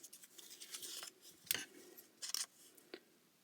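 Scissors snipping through folded paper for a handmade envelope in a junk journal, a few quiet, sharp crisp cuts in irregular bursts, close and alone with no talking.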